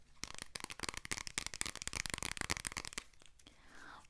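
A deck of playing cards from New Zealand being shuffled and handled up close, with a rapid run of crisp riffling snaps and flicks, then softer papery sliding at the end, in a quiet ASMR setting.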